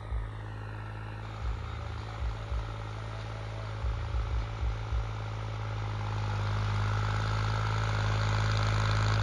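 A New Holland tractor engine runs steadily while ploughing dusty field soil, a continuous low diesel drone with irregular knocking pulses early on, growing slightly louder and denser toward the end, with no talk.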